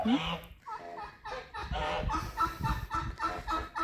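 Geese and turkeys graze together in a mixed flock, giving a busy run of close clucks, honks and gobbling calls in rapid, uneven bursts, with bird voices overlapping and no clear speech.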